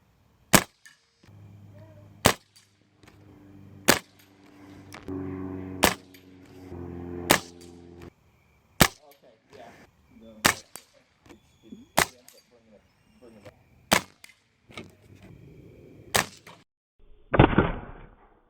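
Hammerli 850 Air Magnum CO2 air rifle firing outdoors at dusk at a 50-yard target, about a dozen sharp, loud cracks spaced a second or two apart, with faint handling noise between shots.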